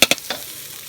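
Crispy fried catfish is stir-fried with spices in a pan, giving two or three quick, close scraping clicks followed by a faint sizzle, all within a second.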